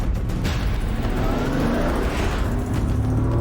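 A Bentley Continental Flying Spur, a big heavy four-wheel-drive car, accelerates hard on a closed road, its engine droning loud and steady with a rising whoosh of wind and tyre noise.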